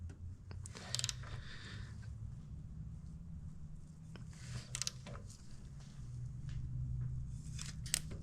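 A torque wrench tightens the push drive on a Serveta Jet 200 scooter, giving a few sparse ratcheting clicks and mechanical creaks, close by over a steady low hum, with no talk.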